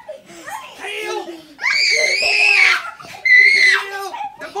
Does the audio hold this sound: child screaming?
yes